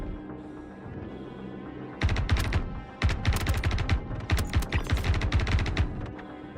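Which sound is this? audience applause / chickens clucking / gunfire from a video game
gunfire from a video game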